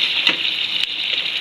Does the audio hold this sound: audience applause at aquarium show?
no